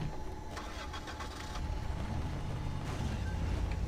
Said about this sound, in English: I have a car now.